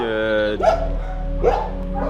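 Dogs bark loudly and close in a French animal shelter, with two sharp barks about a second apart over a sustained whining tone and a constant low hum.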